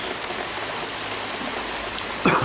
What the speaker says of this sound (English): it was absolutely pouring onto the nest, the nest box